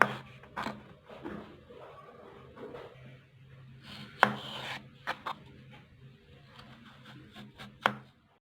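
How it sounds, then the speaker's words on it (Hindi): Potatoes being sliced with a knife on a board in a kitchen, a series of irregular close taps and scraping cuts with quiet pauses between them. "ये स्लाइस हमने काट लिए आलू के।"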